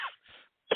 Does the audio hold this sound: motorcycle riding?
no